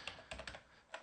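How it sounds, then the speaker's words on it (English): Keys tapped on a computer keyboard while setting up a private VPN server: a handful of quiet, close clicks in uneven bursts with a short pause, no voices. "And here we're going to need to type in server."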